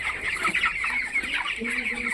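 Broiler chickens in a poultry shed clucking continuously close by, with overlapping calls and a busy flock murmur throughout.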